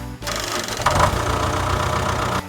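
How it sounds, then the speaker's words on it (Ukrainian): A tractor engine runs with a steady low rumble and rhythmic knocking, starting abruptly and cutting off near the end, loud and close. "Трактор"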